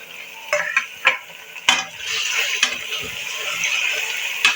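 One kilo of mutton fries with golden onions in a pan, giving a steady sizzle broken by sharp scraping clicks of stirring, close and moderately loud.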